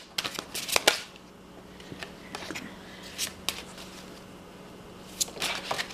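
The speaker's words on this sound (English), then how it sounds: "Cards are flying out here" A deck of Vintage Wisdom oracle cards being shuffled by hand, with bursts of crisp riffling and flicking as cards slip and fly out, separated by short quiet gaps and a faint steady hum.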